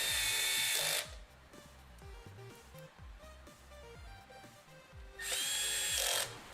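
Powered screwdriver driving the top cover screws of a security camera: two short loud whirring bursts at the start and end, with quieter clicking and mechanical handling sounds between them.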